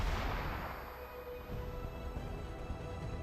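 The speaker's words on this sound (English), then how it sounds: "That's a grenade." A grenade goes off in XCOM 2, one loud booming burst at the very start that rolls into a dense, rumbling decay, followed by a lower crackle of distant gunfire under the fading blast.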